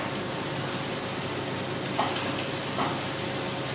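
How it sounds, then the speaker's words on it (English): Tomato paste fries in a pan with a soft, steady sizzle, fairly quiet and close, broken by two brief louder scrapes or stirs; no one talks. "let's put in our half of our tomato paste and fry that off a bit"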